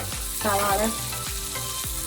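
Sliced onion and prawns frying in a pan for a Kerala-style prawn curry, a steady close sizzle with bursts of louder crackle and a few spoon scrapes against the pan.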